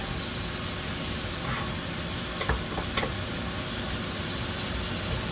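Tomatoes sizzling in a frying pan with brown pepper, a steady hissing fry throughout with a few brief scraping stirs midway, no talk.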